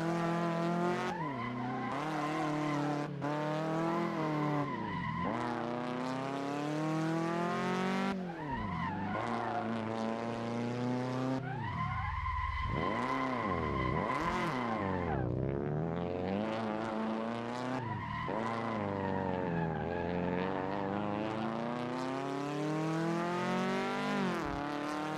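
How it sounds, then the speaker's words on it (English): A car driving fast in a racing game, engine revving up and down through gear changes with long squealing, skidding tires, loud and continuous for the whole stretch, no talk. "God, I love the sound of this car."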